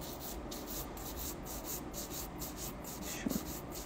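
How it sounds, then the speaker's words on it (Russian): Acrylic gel nail coating being filed off, a steady run of rhythmic rasping strokes about twice a second, close and even, with a brief small knock near the end. "Как снимается акригель? Опилом."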